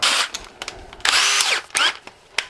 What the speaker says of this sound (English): left hand drill bit should bring it out just like that